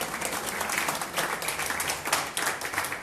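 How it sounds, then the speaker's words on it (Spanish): A congregation applauds during a church sermon, a soft, fairly distant patter of many hands clapping steadily for about three seconds with no voices over it. "Démosle un aplauso,"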